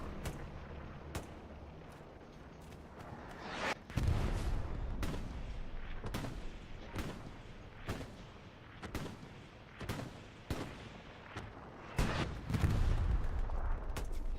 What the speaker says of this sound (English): shots coming out now